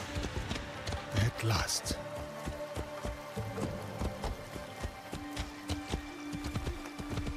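Horse hooves clip-clopping in Assassin's Creed Shadows, a steady run of hoof beats across busy harvest fields, close and fairly loud beneath a voice and game music.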